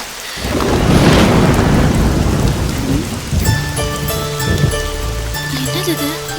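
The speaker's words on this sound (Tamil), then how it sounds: "மழை வேற" Heavy rain pours down steadily in a loud dense hiss with a rumble of thunder, as voices and music come in over the downpour partway through a South Indian romantic film scene.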